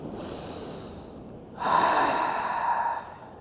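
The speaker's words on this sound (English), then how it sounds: "Take a deep breath here." Deep breathing during a sunrise beach yoga session, with a steady airy exhale followed by a stronger, louder rush of breath through the throat lasting over a second, close and without talk.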